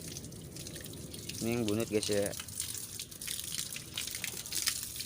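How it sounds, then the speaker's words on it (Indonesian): Water is poured over a bunut bonsai plant, a soft continuous splashing and trickling that runs steadily throughout while someone talks over it close by. "Oke, yang bunut udah selesai guys, kita siram."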